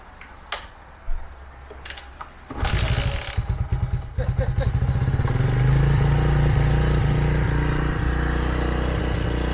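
Bajaj Boxer motorcycle fitted with a Chinese carburettor starts after a few clicks, then its single-cylinder engine settles into a loud, steady idle as it warms up close by.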